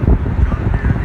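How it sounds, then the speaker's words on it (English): Wind gusts blow across a main street in the small town of Wamego, Kansas, a loud rumbling buffet on the microphone with uneven surges throughout. "it doesn't matter what side of the building you're standing on, the wind is going to hit you"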